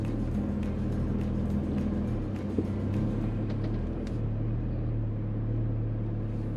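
A Mitsubishi Pajero idles slowly through a water crossing on an off-road track, giving a low, steady engine rumble that stays close and even throughout.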